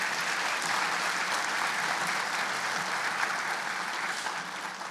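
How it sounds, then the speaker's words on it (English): A large crowd at an award ceremony claps steadily and loudly for several seconds, a dense, even wash of applause with no pauses. "Please, another round of applause for Sheriff Gregory Toney."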